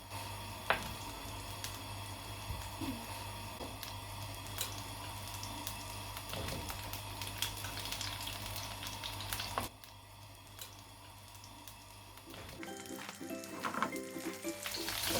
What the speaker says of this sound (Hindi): and we'll fry them in the butter.